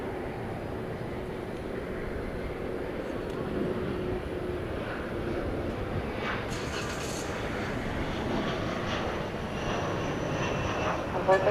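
A Boeing 787-9 Dreamliner taxis at DFW Airport at night toward a hangar, making a continuous low engine rumble with faint higher whine, and light clicks and distant noise over it.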